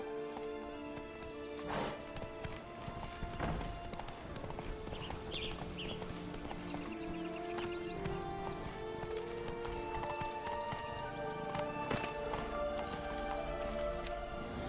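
Roach the horse galloping in The Witcher 3, a continuous rhythmic clip-clop of hooves with occasional whinnies and snorts, under a game music bed.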